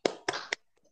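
Schoolchildren in an Indonesian classroom perform a rhythmic spirit clap: three sharp, loud group claps in quick succession, then a few faint trailing taps.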